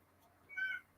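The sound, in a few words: cat meowing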